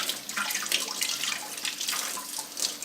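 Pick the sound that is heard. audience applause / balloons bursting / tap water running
tap water running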